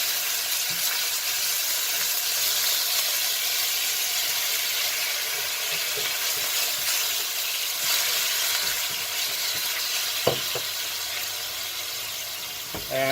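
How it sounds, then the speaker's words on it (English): Loud, steady sizzling and hissing as a Finex 10-inch cast iron pan is deglazed just after cooking sausage, with a few faint scrapes and knocks toward the end. "I'm just going to sort of deglaze the pan"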